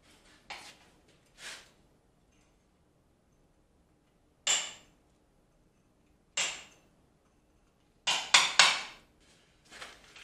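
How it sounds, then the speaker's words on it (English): Chisel striking crumbling masonry while a forge is modified, heard as sparse, sharp close-up knocks and scrapes separated by quiet gaps, ending in a quick cluster of hits. "once I started chiseling in here, it just crumbled and came all apart"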